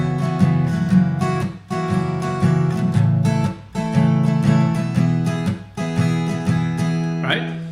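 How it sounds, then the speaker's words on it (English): Acoustic guitar strumming with a bouncy swing feel, chords struck in lilting repeated groups with short gaps between phrases, loud and near, with no speech. "then I'm going to play the same strumming pattern in a swing feel"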